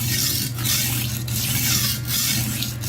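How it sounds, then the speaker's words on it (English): A cheap restaurant-supply kitchen knife in need of sharpening grinds steadily against a sharpener, a continuous rasping scrape with a brief pause roughly every three-quarters of a second as each stroke ends, close and fairly loud. "it's making a grinding noise all the way from one end to the other"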